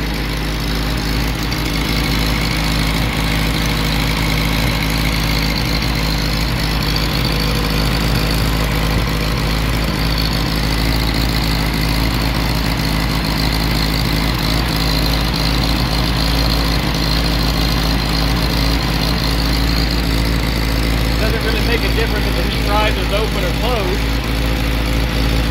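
A warmed-up Willys L134 four-cylinder engine idles steadily and loudly up close, its even low rumble running throughout while someone talks over it.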